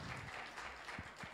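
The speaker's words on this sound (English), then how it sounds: "Rosemary, let's give her a clap." Church congregation applauding a woman about to be interviewed at a Mother's Day worship service, a short burst of scattered clapping that stays fairly soft and even throughout.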